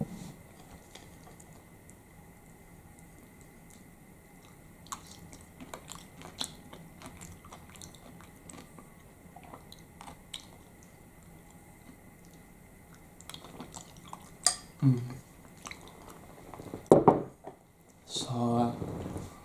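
Norwegian Christmas porridge topped with sugar, cinnamon and butter being eaten up close: soft, quiet wet chewing and faint ticking mouth sounds, with a few sharper bites and clicks near the end.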